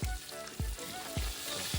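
Fish sizzles and spatters in hot oil in a pan, a dense steady crackle broken by regular low thumps about every half second, close and fairly loud with no talking.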